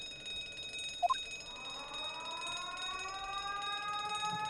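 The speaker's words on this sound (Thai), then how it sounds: "ได้มีเสียงหวอ" A rising alarm siren in the video game The Great Ace Attorney Chronicles wails steadily, sweeping upward and holding a loud electronic tone, preceded by a brief chime.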